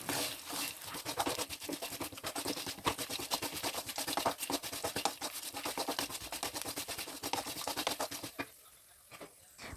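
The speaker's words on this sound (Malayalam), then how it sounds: "അതൊന്ന് മിക്സ് ചെയ്ത് കൊടുക്കാം." Poha mixture ingredients with turmeric powder are stirred and tossed together, giving a steady close scratching and rustling that runs for several seconds before dropping away near the end.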